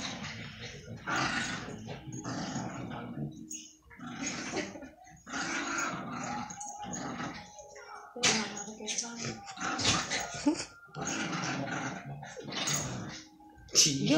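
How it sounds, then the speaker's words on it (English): Several dogs whimper, growl and yip in bursts while playing together on a couch, the rough, busy sounds running throughout with a person talking over them. "Yo, they jumping my dog."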